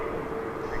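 An American Eagle airliner arriving at DFW Airport gives off a brief, steady engine drone with a faint tonal whine, moderately distant and unbroken, with nobody talking.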